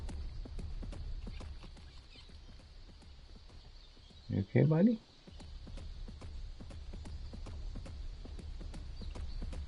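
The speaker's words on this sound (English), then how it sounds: "I hear you stomping your feet over here." A creature stomps its feet in the video game Ark Ascended Ragnarok, a steady run of soft, rhythmic thuds like hoofed steps throughout, with a short spoken line in the middle.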